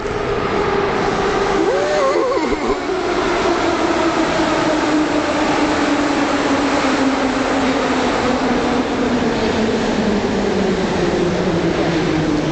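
A loud, continuous rumble of a metro train, with a pitched whine slowly falling as it moves through the station, drowning out everything else.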